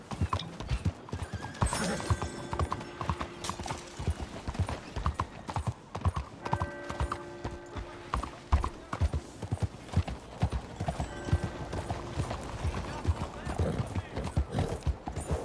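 Horse hooves clip-clop steadily and close in the video game Red Dead Redemption 2, a continuous rhythmic trot with whinnies and creaking tack, while someone talks over the gameplay.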